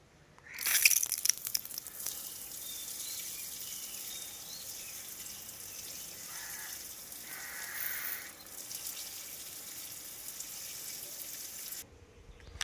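Water is poured over a snake to bathe it, a splashing gush at the start that settles into a softer, fairly faint trickle and runs steadily before stopping abruptly.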